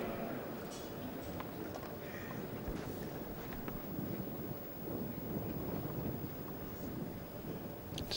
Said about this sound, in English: Still hear how the wind is playing havoc with the players' tennis